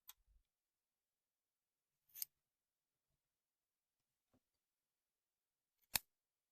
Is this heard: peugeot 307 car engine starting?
no